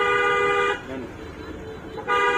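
Car horn honking in road traffic: a loud, sustained toot lasting under a second, a pause with a lower rumble, then a second toot starting, with voices audible in the background.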